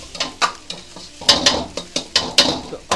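Manchurian gravy base being stir-fried in a pan, with sharp repeated scrapes and clacks of a spatula in an uneven rhythm over a soft sizzle, close and fairly loud.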